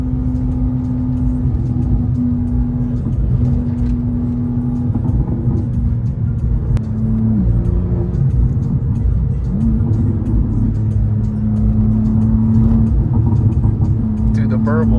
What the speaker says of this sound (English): the burbles sound really good